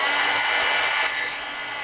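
Hair dryer blowing on modeling paste texture in a mixed media layout, a close, loud, steady airy whoosh that drops slightly in level partway through.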